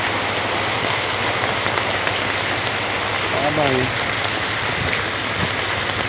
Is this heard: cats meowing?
no